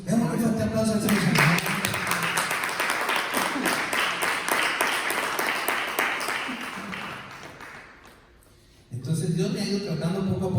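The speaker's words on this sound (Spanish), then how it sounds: "Demos un fuerte aplauso al Señor." A church congregation applauding during a pastor's sermon, a dense wash of clapping that swells and then fades out, framed by the pastor's voice speaking before and after.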